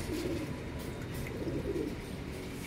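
Pigeons being fed give soft, low cooing calls, faint and somewhat distant over a quiet background, with a few coos overlapping.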